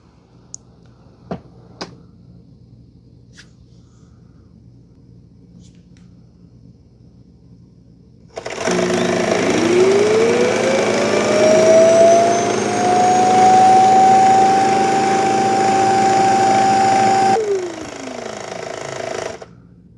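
A Shark Matrix RV2610WA robot vacuum base empties the dustbin: after a few faint clicks and near-silence, a loud suction motor kicks in, its whine rising and then holding steady for about nine seconds before cutting off abruptly.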